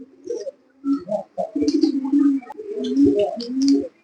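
Pigeons coo nearby in soft, throaty rolling phrases, several calls overlapping in bursts with short pauses and faint chirps in the background.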